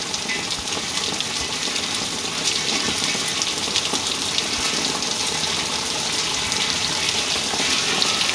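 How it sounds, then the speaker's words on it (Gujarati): Heavy rain pours over village farm fields, making a dense, unbroken hiss that stays loud and close from start to finish. "હબા પાણી વરસે છે"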